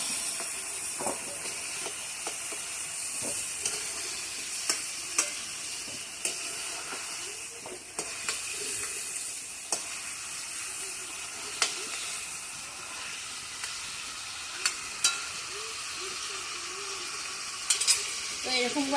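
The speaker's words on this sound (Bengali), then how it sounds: "তো এরকম করে দেখো আমি ভেজে নিয়েছি" Potato and cauliflower pieces fry in oil in a pan while being stirred, giving a steady close sizzle broken by sharp intermittent scrapes and clinks of the spatula against the pan.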